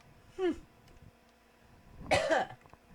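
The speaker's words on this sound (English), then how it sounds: "There, I cough on you." Two short coughs about a second and a half apart, the second heavier and rougher, over a faint steady background hum.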